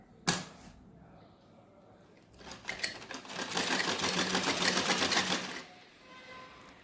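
A sewing machine stitches a lined blouse, starting with a sharp click, then running in a fast, steady rattling burst for about three seconds before stopping, nearby with no talk.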